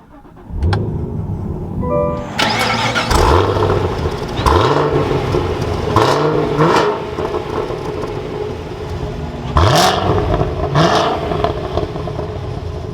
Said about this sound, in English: let's start this up and take a listen to how this V8 sounds